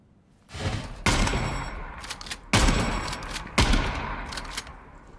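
Shotgun fire in Gunsmith Simulator, three loud, close, heavy blasts spaced about a second or more apart, each with a sharp crack and a lingering low boom tail, alone without talk.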